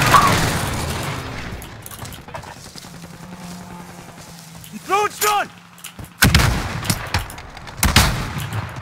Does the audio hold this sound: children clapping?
no